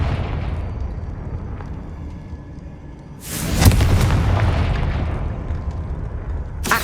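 A single Confringo spell explosion in Hogwarts Legacy: a quiet rumbling lull, then one sudden loud boom with a long, roaring, slowly fading tail.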